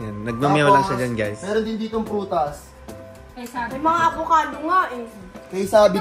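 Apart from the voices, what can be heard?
No everyday noises stand out.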